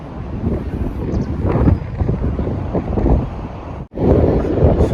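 Steady wind roaring and buffeting a microphone outdoors on a cruise ship, loud and continuous, with a brief drop near the end before the gusting resumes.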